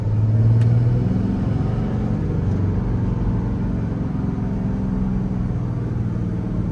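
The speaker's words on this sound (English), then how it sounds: "still have our exhaust brake on" A Ram 3500 Mega Cab with a Cummins engine, 6-speed manual and 4x4 slows on its exhaust brake, holding a loud, steady, deep rumbling drone throughout with no talking.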